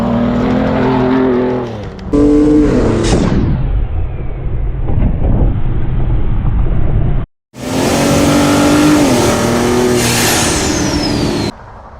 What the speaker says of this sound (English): this is his 2020 fake Shelby F-150 Raptor